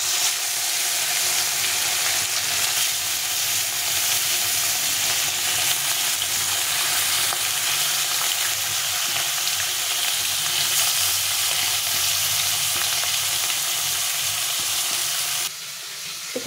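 Fish frying in hot oil gives a loud, continuous sizzle that holds steady for a long stretch, with faint stirring and a sudden drop in level near the end.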